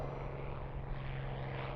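P-51C Mustang fighter plane with its propeller engine running, a steady loud drone with a strong low hum held evenly throughout, no voices over it.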